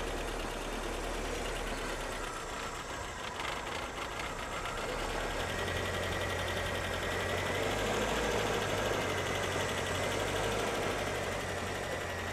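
A restored 1979 Ford Corcel II with a CHT engine idles steadily with an even, low rumble and faint mechanical clatter, continuous and close, with no voices.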